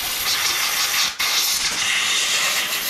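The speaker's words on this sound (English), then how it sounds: "I think maybe I'll charge my air compressor up and give that a blow" Compressed air hisses hard and continuously as it blows gunk out of the parts of a West Coast Saws faller chainsaw, with one brief break in the blast.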